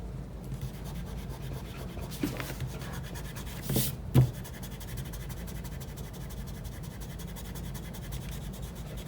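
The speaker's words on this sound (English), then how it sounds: "I'm just going to give it a hit with the eraser, and I'm going to fix it up" An eraser rubbing on a pencil drawing of a calf's leg, soft close scrubbing strokes with a few brief louder rubs.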